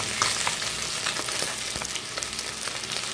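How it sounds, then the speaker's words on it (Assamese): Fish frying in a pan in a home kitchen, a steady close sizzle with scattered crackles and pops, no talking. "মাছখিনি এতিয়া কাটি পেলাই ভাজিলৈ"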